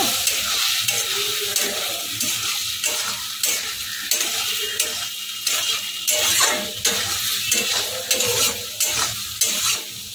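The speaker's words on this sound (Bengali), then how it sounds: "এবার এর মধ্যে দিয়ে দেবো কর্নফ্লাওয়ার, 1/2 চামচ গুঁড়ে নিয়েছি। ভালো করে নেড়ে চেড়ে নেব।" Jackfruit tossed with cornflour in a hot pan, a spoon scraping and stirring in repeated strokes over a steady background sizzle, close and fairly loud with no talking.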